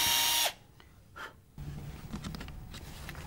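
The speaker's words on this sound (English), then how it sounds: "Drill using a bit the same size as the coat hanger wire." A power drill bores holes sized for coat hanger wire into the wooden frame of a breakfast-in-bed tray: a loud opening burst, a short pause, then a steady lower-level whirring drill run to the end.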